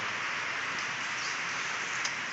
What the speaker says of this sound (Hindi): और ये देखो बारिश,